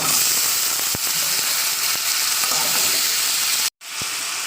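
Potatoes frying in hot oil with browned onion in a wok, a loud steady close sizzle with a few sharp spatula scrapes and one brief cut-out near the end.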